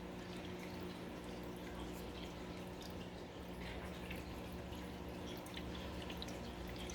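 A faint, steady trickle of water and debris runs through a siphon tube during an aquarium water change. It sounds continuous and hushed over a low background hum.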